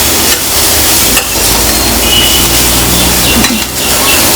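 Carrots and other vegetables sauté in a pan for oats upma, giving a loud, steady sizzle that runs throughout with a few soft stirring knocks and no talking.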